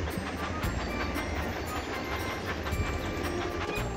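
Cartoon train from a Thomas & Friends racing game rolling along the track with a steady rhythmic clickety-clack over a low rumble, fairly quiet and continuous, with no talk.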